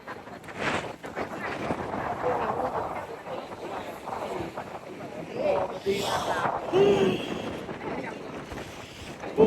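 Cold wind blows outdoors at the Blue Lagoon geothermal hot spring, buffeting the microphone in uneven gusts beneath a person talking close by.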